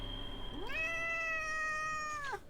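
Single drawn-out meow from a house cat, clear and close, rising then holding steady before tailing off, with no talk over it.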